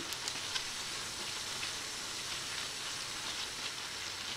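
Chopped okra sautés in a pan over a medium gas flame, giving a continuous, even sizzle and hiss that holds steady throughout, close and moderately loud with no talking.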